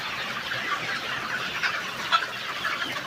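Sonali classic chickens, 58 days old, clucking as a flock in hot weather, a steady low murmur of many birds with a few brief louder calls, no talk.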